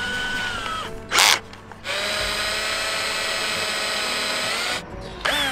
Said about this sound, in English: I'm gonna give this drill bit 2 minutes before it snaps.